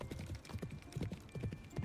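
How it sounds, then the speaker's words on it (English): Several horses gallop across open grassland in a video game, hooves drumming in a rapid, rolling rhythm, close and fairly loud, alone without voices. "Several steeds with their riders gallop across the fields."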